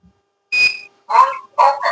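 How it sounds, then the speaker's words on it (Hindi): A short electronic beep sounds, followed by two brief bursts of a synthesized voice speaking, close and clear against silence. "अब जो भी इंडिकेशन देगा मशीन बीप बोल के स्पीकिंग के थ्रू भी आपको देगी"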